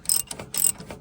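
A ratchet tightens bolts underneath a Challenger tractor, heard up close as two quick bursts of sharp clicking separated by short pauses.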